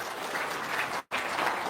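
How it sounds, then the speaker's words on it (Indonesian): Audience applause during a talk show: steady, moderately loud clapping from a room of people, broken by an abrupt brief cut to silence midway before resuming. "Tepuk tangan dulu dong."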